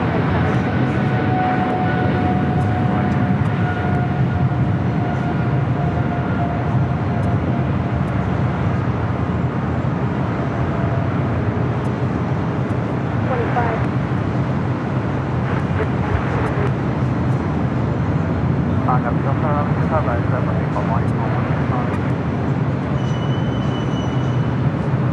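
An airliner bound for London Heathrow rolls along an airport runway for departure, a loud continuous engine roar with a low rumble and faint whining tones throughout, steady and close.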